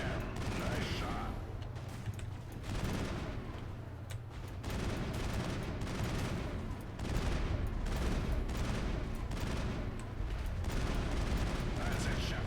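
Rapid bursts of gunfire from the Mass Effect video game crackle in dense, overlapping volleys, loud and continuous, with short pauses between salvos and faint voices mixed in.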